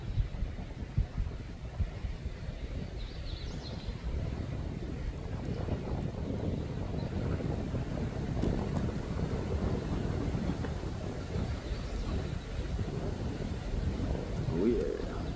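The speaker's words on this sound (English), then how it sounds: "Oh yeah, it's definitely getting windy." Gusty wind roars and buffets the microphone in a constant low rumble that lasts throughout.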